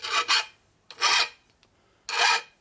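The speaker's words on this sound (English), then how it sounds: "holding the file at 45 degrees. Which gives me a 45-degree chamfer." Hand file chamfering the sharp edge of a metal bar at 45 degrees, three separate rasping strokes with short pauses between them, close and crisp, no talking.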